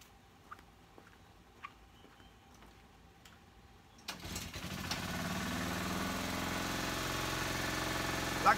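Engine cranks after a few quiet ticks and clicks, catching abruptly and settling into a steady, droning idle that holds close and even to the end.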